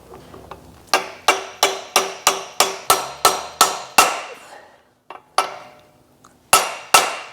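A socket is struck with a hammer to seat a bearing on a 2V Mustang: a rapid, even run of about ten ringing metallic blows, a short pause, then a few more, close and loud.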